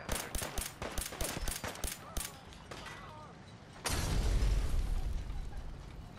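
In the Fallout 4 video game, Molotovs and grenades go off as a run of sharp bursts and pops, then a loud, sustained roaring blast rises near the end.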